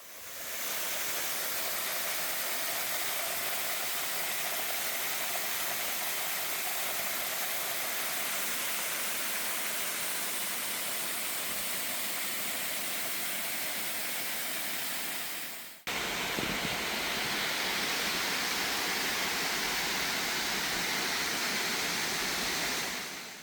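A hidden waterfall on an urban trekking trail in Gwacheon roars steadily as a dense, continuous rush of falling water, near and loud, with a brief cut partway through before the same wash resumes.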